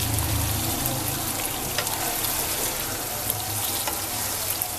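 Chicken karahi sizzles and fries steadily in a pan with coriander just added, a dense, even crackle with occasional small pops, close and continuous, with no talking.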